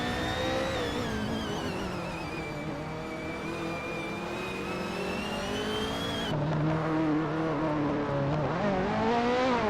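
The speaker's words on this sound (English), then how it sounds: "Bot Hellskank is running a Lancia Delta S4, known for its turbocharged power and rally pedigree" Video game race cars, among them a turbocharged Lancia Delta S4 rally car, scream through gear changes with high, rising and falling engine revs, a continuous loud whine shifting pitch throughout.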